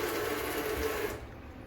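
Kitchen sink tap running in a rental house in Simla, Colorado, a steady broadband hiss of flowing water that cuts off near the end, leaving a quieter room.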